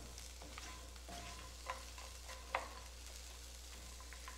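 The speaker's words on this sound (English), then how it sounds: "just stir that around and get that garlic roasting around it" Garlic and broccoli sizzle gently in a frying pan, a soft steady hiss with occasional small crackles and pops, no voices.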